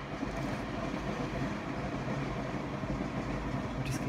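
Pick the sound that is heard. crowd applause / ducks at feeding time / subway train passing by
subway train passing by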